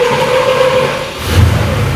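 A 383ci LT4/LT1 small-block Chevy V8 runs on a dyno, a loud close steady engine drone that dips and then surges into a deeper, throatier rev.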